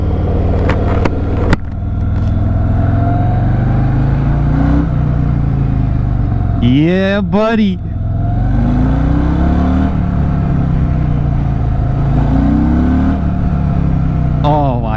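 Harley-Davidson Fat Boy 114 motorcycle engine pulling hard on the road, a steady loud rumble with rising and falling revs throughout, briefly mixed with a short rising whine, while a rider talks over it.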